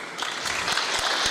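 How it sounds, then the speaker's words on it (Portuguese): An audience gives a short burst of applause, a close, dense wash of clapping that swells slightly across its brief length. "E palmas pelo teu resultado também"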